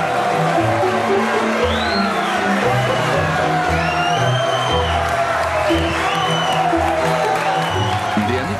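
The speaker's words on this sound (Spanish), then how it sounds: "un aplauso para" A studio audience applauds and cheers for a guest on a television show, sustained clapping with whoops and shouts filling the room while music plays underneath throughout.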